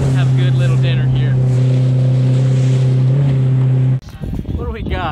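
A small micro boat running offshore while fishing, its outboard motor droning steadily and loud with a strong low hum for about four seconds before cutting off, leaving wind and water noise.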